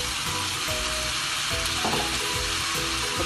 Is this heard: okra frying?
yes